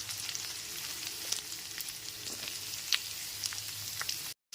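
Chopped beans stirred and frying in a pan for egg chow mein, a steady close sizzle with scattered crackles and faint scraping stirs, no voices, cutting off briefly near the end.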